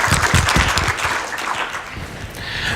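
An audience at a talk breaks into applause, a dense, loud patter of many hands clapping together, a few sharper claps standing out near the start before settling into an even roar.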